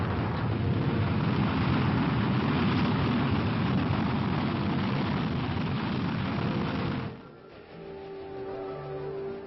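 A loud, sustained roaring rush of an Army Corporal missile launch fills most of the clip, then cuts off abruptly into a quieter hum.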